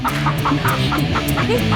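Chickens cluck in quick, busy bursts close by, a dense run of short clucks over a noisy outdoor background.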